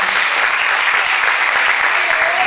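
Congregation applauding together in a church service, a dense, steady wash of many hands clapping close and loud for the full stretch, with no voices standing out.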